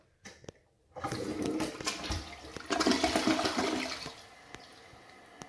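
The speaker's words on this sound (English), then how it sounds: "I'm going to do a half flush, see how that goes." A WaterRidge one-piece toilet does a half flush with toilet paper in the bowl: after a short quiet start, a loud rushing swirl of water begins, swells midway, then drains away and fades toward the end, with no talking.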